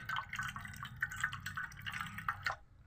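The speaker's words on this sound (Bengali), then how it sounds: "এটাকে অল্প অল্প জল দিয়ে ধুয়ে নিতে হবে, এমনভাবে ধুয়ে নিতে হবে যাতে কুসুমটা চলে না যায়।" Water runs and drips over a cleaned crab during rinsing, producing soft splashing and dripping sounds that continue steadily, then stop near the end.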